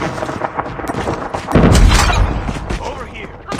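Gunfire in a Call of Duty Mobile battle royale sniper match: loud bursts of shots and heavy booms in close succession, with a strong blast around the middle, alongside shouted in-game callouts.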